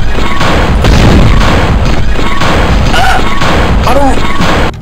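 Gunfire in a Dead Space demake video game, loud dense booming shots packed together in a continuous barrage with a voice talking underneath.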